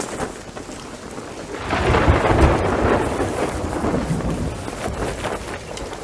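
A thunderstorm at sea in Sea of Thieves: dense steady rain hiss with a deep rolling thunder rumble swelling through the middle, loud and enveloping.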